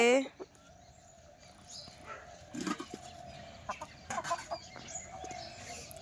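Chickens cluck and squawk in short scattered bursts against a quiet winter-morning outdoor background, with a tethered rooster's call standing out briefly.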